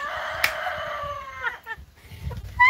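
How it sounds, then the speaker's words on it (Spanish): A rooster crows nearby, a loud drawn-out cock-a-doodle-doo that holds steady and then trails off, followed by a few faint clucks and low rustling noise, with no talking. "A cada rato le canta el gallo"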